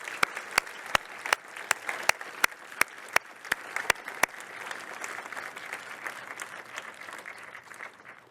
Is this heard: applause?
yes